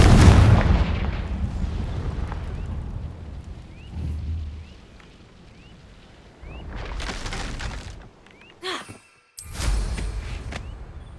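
The Confringo explosive spell cast in the Hogwarts Legacy video game, a series of loud booming blasts with rumbling tails, separated by quieter stretches, the heaviest hit at the start.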